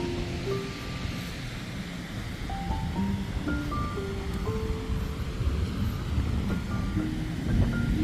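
Sea waves wash in a continuous broadband rush, with faint tonal hums drifting over the surf; no one speaks.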